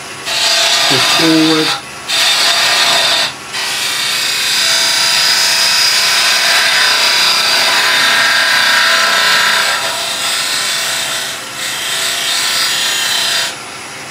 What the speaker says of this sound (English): we're going to side scrape with the edge of the parting tool